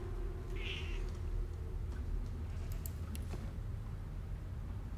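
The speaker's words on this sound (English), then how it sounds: "Hello, kitty cat." A house cat gives a short meow early on, close and clear over a steady low background hum, with faint ticking sounds later.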